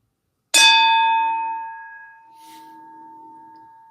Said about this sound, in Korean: 종소리의 잔향이 사라지고